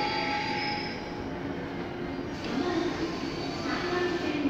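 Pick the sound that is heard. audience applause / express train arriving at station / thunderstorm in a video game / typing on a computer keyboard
express train arriving at station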